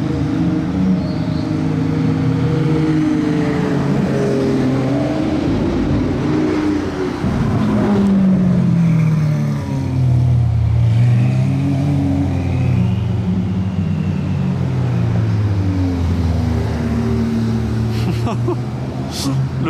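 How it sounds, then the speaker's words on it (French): Supercars rev in slow Monaco traffic, with loud, close engine roars rising and falling in pitch over a constant rumble. A voice can be heard over the engines. "Les bouchons de supercar à Monaco"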